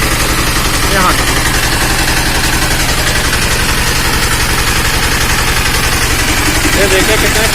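A faulty engine runs loudly at idle with a fast, steady rhythmic thumping while oil sprays forcefully out of the top of the engine, close and dominant throughout.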